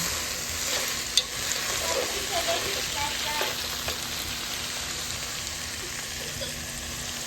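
Southern hot dog chili is stirred in a hot pan, giving a steady, soft sizzle with faint scraping and an occasional small pop; no one speaks.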